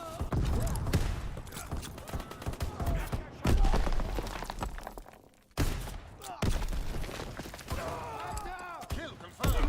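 Heavy gunfire and booming impacts in a retro war video game, with bursts of shots, thuds and blasts, loud and dense throughout and briefly dropping out twice, mixed with game voices speaking.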